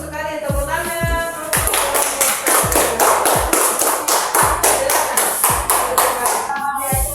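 Classroom students clapping together in a loose rhythmic burst, sharp hand claps mixed with thumps, following a short stretch of speech and a few scattered taps at the start.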